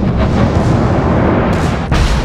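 A naval shell striking an enemy ship in World of Warships, heard as a loud, sustained rumbling boom that fills the whole moment without a break, close and heavy, with no voices.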